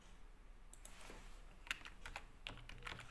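Quiet typing on a computer keyboard, a scattered run of soft key clicks with one sharper tap, faint and close, with no voices over it.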